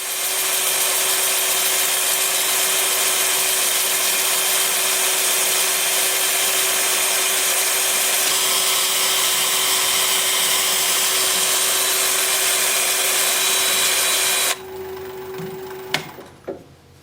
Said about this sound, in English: I'm just going to sort of round this edge over with my sanding disc